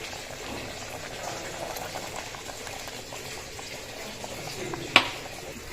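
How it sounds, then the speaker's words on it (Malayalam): A pot of tender jackfruit curry with tamarind bubbles and simmers with a soft, continuous burble, ending with a brief sharp clink near the close. "പുളിയൊക്കെ ചേർത്ത് നന്നായിട്ട് തിളച്ച് വന്നിട്ടുണ്ട്"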